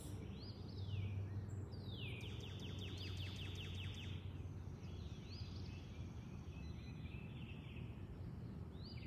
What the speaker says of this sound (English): over these birds that are singing